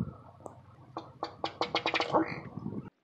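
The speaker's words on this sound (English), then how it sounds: "ruddy ducks also quack, but they have another call that's unique to them as well." A duck calls in a quick series of sharp, ticking notes that speed up into a short burble, close and clear against a quiet background.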